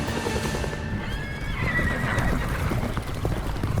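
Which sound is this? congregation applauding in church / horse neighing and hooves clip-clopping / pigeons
horse neighing and hooves clip-clopping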